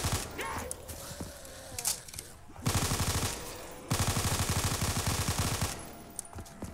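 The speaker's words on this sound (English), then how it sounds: "I need a different gun. This MP5K is not... It's not really full of ammo." An MP5K submachine gun fires in Call of Duty Black Ops III Zombies, a fast rattling burst of rapid shots in two sustained stretches, between scattered game effects and brief thuds.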